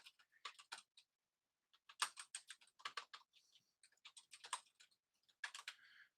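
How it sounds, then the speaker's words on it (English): A computer keyboard is typed on in quick irregular bursts separated by short pauses, close and fairly quiet, with no voices. "let me just type this out"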